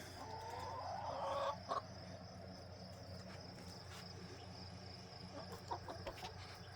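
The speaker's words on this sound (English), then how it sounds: "These chickens have gotten so big." Chickens cluck softly nearby in a garden, one brief louder call standing out, over a steady chirping of insects in the background.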